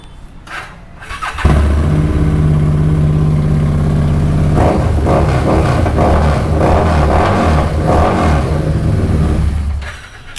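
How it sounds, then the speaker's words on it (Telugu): Harley-Davidson Street 750 motorcycle in neat condition starting up after a short crank, then a loud close exhaust idle with a couple of throttle blips before cutting off. "మీకు కావాలంటే మీకు ఎగ్జాస్ట్ సౌండింగ్ కూడా వినిపిస్తాను మీకు స్టార్ట్ చేసి ఒక్కసారి అయితే చూడండి"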